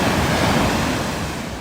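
Ocean surf washing onto the beach at Myrtle Beach, a steady broadband rush of breaking waves, close and fairly loud, with wind buffeting the microphone and no voices.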